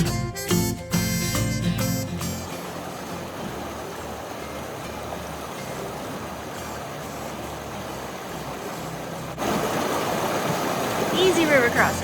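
River water at a trail crossing on the Whitewater wash rushes in a steady broadband hiss, moderately loud and continuous, after a short burst of handling noise at the start and with a louder stretch near the end.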